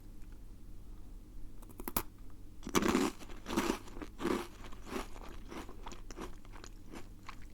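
Crisp, close crunching and chewing of a thick chocolate-coated biscuit stick snack, with a few sharp bites followed by repeated softer crunches and mouth sounds in a quiet ASMR setting.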